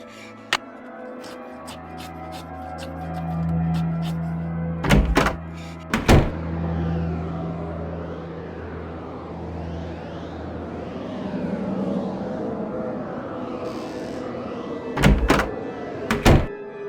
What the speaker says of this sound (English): Just an old radiator.